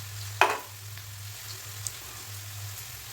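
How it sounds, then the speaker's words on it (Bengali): Poppy seed paste with chilli fries gently in a pan, a faint, low sizzle opened by one sharp clatter of a utensil, with a quiet steady hum underneath. "এবার এটাকে ভালো করে নাড়তে হবে আস্তে আস্তে নাড়তে নাড়তে একটু ভাজা ভাজা হয়ে আসবে"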